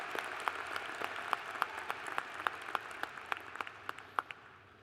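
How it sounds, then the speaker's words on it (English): A commencement audience applauds its graduates, a dense, steady patter of many hands with sharper individual claps standing out, sustained at moderate loudness throughout. "a round of applause for these outstanding graduates"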